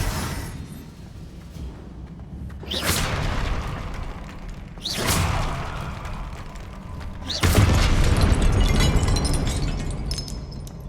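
Confringo fire spells in Hogwarts Legacy, three heavy booming explosions spaced a couple of seconds apart, each a sharp loud blast trailing into crackling debris and rumble, the last one the loudest and longest.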